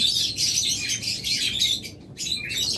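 A pair of diamond doves calling at close range, a loud, busy run of chirps and tweets with a brief pause before the calls resume.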